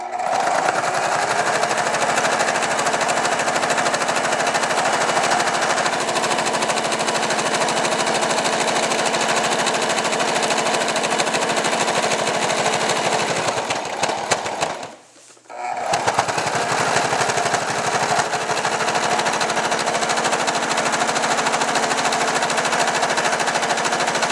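A sewing machine zigzag-stitches a 12x12 vintage scrapbook layout in one loud, steady, continuous whir, broken by a single brief pause partway through.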